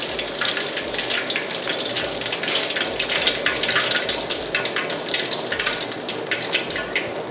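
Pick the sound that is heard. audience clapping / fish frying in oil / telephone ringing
fish frying in oil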